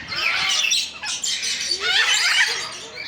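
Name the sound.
many lory parrots squawking together at New Town zoo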